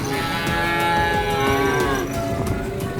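Limousin calves mooing at a livestock stall, a loud, long, drawn-out moo close by with another animal calling, over a low background of farm noise.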